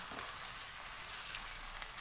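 Finely chopped tomatoes and onions fry over a high flame in a pan, giving a soft, continuous hiss and sizzle with faint crackles. The sound is quiet and steady, with no voices.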